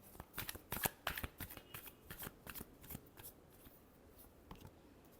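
Tarot cards being shuffled by hand in a fortune-telling reading, a close, quiet run of crisp riffling snaps and slides that thins out toward the end, with no talking.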